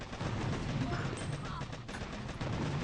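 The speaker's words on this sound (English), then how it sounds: "These boom cannons are going to finish us off fairly quickly" Boom cannons fire in Boom Beach during an HQ18 War Factory attack, a dense barrage of rapid booms and blasts under continuous game noise, with a voice talking over it.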